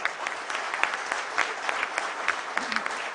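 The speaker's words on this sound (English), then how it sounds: "Give a loud kind of an applause to yourself because you've done a great job." Graduating students at a graduation ceremony applaud steadily, a broad dense wash of many hands clapping at once, fairly distant and even throughout.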